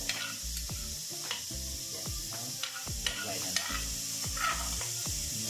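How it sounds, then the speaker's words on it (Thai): Thai curry paste of chili, garlic, shallot and lemongrass frying over low heat in a pan, a steady close sizzle broken by repeated rhythmic stirring scrapes and knocks of the utensil against the pan. "ก็ตั้งกระทะครับผม ไฟอ่อนแล้วเราก็ใส่เครื่องแกงลงไปครับ"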